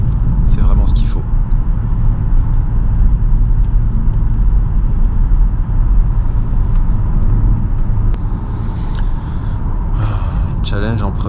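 A Jaguar S-type R idles with a steady, low, muffled exhaust burble from inside or close by, moderately loud and continuous, with brief faint voice sounds and breaths over it.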